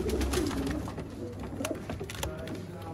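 A breeder pair of pigeons coos softly nearby in a loft, low rolling calls repeating over faint background noise.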